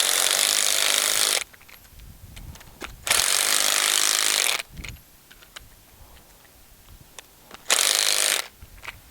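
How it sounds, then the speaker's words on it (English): An impact wrench tightens a clamp on a hopyard post, sending out three loud, broadband bursts of about one to one and a half seconds each, with quieter knocks and handling sounds between them and no talking. "we put 1 more clamp on, and we tighten her down with our impact wrench"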